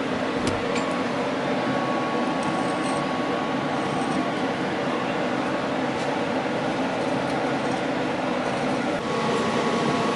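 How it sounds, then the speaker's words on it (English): The cooling fan of a powerful Lincoln TIG welder running on 110 volt whirs steadily as a constant broadband hum, close and unbroken, with no talking. "One of the downsides of running this super powerful Lincoln TIG welder on 110 volt only is that the fan's always on"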